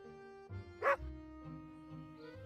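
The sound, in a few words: dog barking in the video game Dark Tales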